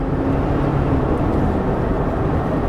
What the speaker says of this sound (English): Boy, that engine sounds healthy.